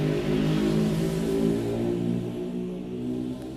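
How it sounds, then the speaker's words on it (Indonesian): Motorcycles passing noisily outside, a loud engine drone that swells and then fades as the bikes move past, heard alone with no talking. "harus nunggu motor-motor lewat berisik ya"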